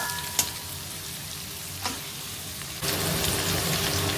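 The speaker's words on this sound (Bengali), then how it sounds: "রসুনটা একটু ভালোভাবে ভাজা হওয়া পর্যন্ত আমি অপেক্ষা করবো" Garlic sizzles and crackles in hot oil in a pan, with a couple of sharp pops. The frying suddenly grows louder and denser as cut potato is added near the end.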